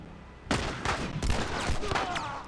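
Several sharp, loud shots from the El Diablo revolver in The Last of Us, fired one after another at uneven intervals, each crack trailing a short echo.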